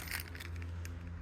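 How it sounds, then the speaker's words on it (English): Car keys jangling together in a storage unit, a steady metallic rattle with a few brighter clinks close by, over a low constant hum. "Lots of car keys."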